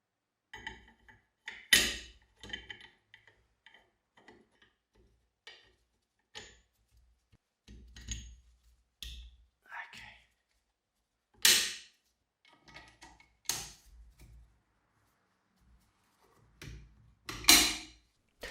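Metal parts of a WW2 machine gun clink and knock as its chunky bolt barrel link is fitted, with sparse quiet taps and several louder sharp clacks scattered across long hushed gaps.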